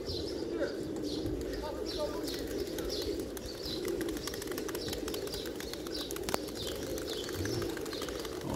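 A flock of about 700 pigeons coo in soft, repeated murmurs close by, with wings flapping now and then and a low steady background hum.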